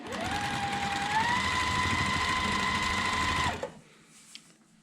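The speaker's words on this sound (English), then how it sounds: "we can go right over to the sewing machine and sew a 1/4 inch seam on that" A sewing machine stitches a 1/4 inch seam through quilt fabric, running steadily at speed for a few seconds with a whirring mechanical hum, then stops abruptly, leaving a quiet room.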